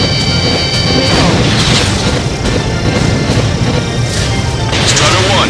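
Missile launch in the Ace Combat 7 combat flight game, a loud sustained rushing roar over steady jet engine noise, with radio voices talking over it.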